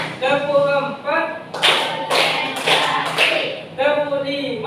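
A classroom of students claps a short rhythmic pattern in unison, a quick series of sharp group claps set between voices chanting in a sing-song way before and after.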